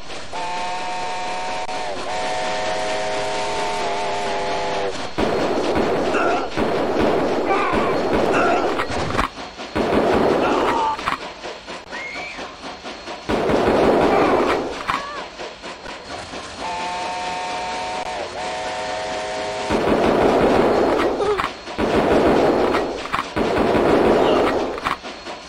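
A steam train in the video game Mad Dog II: The Lost Gold chugs along with long, piercing whistle blasts near the start and again midway. Loud bursts of rumbling and clatter come and go between them.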